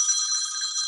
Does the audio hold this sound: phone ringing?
yes